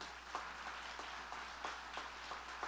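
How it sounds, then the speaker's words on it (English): Applause fills a college commencement ceremony, a steady, fairly faint wash of many hands clapping from the audience, heard alone without voices. "Let's give him a round of applause."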